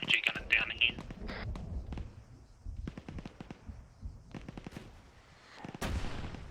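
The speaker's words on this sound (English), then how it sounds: "RPG close to us, coming from the southeast" An airsoft RPG round impacts close by during squad training, giving a sharp bang among several other loud, quick pops and cracks. People talk urgently over the sounds.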